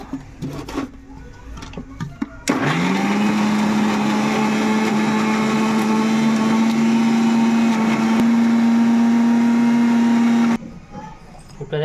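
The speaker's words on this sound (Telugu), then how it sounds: "మళ్ళీ ఇంకోసారి మిక్సీ పట్టుకోవాలండి" Kitchen mixer grinder whirring loudly and steadily for about eight seconds as it grinds a wet masala paste of ginger and garlic with a little water, starting and stopping abruptly, with quiet room sounds before and after.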